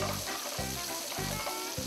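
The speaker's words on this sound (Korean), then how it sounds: "달궈진 프라이팬에 올리브유를 충분히 두르고 준비한 새우를 올려 노릇노릇해질 때까지 볶아준다." Peeled, deveined shrimp sizzling in plenty of olive oil in a hot frying pan, a steady close crackle and hiss with rhythmic low bursts as the pan is tossed or stirred, no voices.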